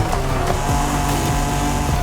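A Honda NSX-R in Forza Horizon 5 races hard, its engine roaring loud and close while the tires squeal through a brief slide, all packed into two seconds with no voices.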